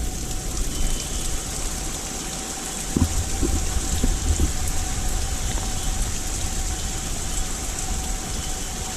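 Torrential rain pours during a tornado-warned storm, a loud, continuous hiss and patter with a few low thumps of gusting wind, and a faint steady siren tone droning underneath.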